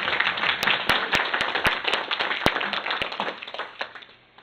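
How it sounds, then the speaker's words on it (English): Applause from a symposium audience, scattered but steady clapping with a few sharp individual claps standing out, gradually thinning and fading at the end. "would you join me to give ourselves a big round of applause?"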